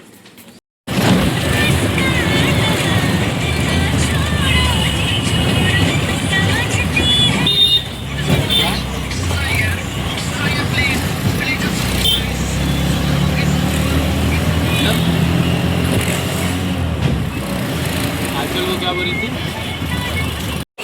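A car driving along a road, with a steady, loud rumble of engine and road noise running continuously for most of the stretch while voices talk over it.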